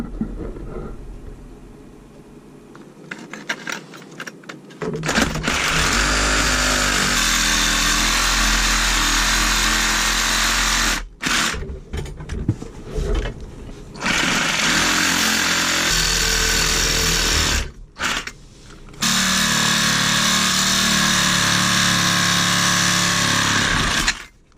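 An angle grinder cuts through a cast iron soil stack pipe with a loud, harsh, close whine, running in long bursts broken by brief pauses as the disc bites and releases.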